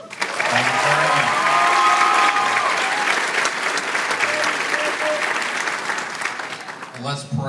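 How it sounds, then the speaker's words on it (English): A graduation audience applauds for a student pastor, a dense sustained clapping wash that swells early and tapers off toward the end, with a voice briefly heard under it. "a special round of applause for our student pastor"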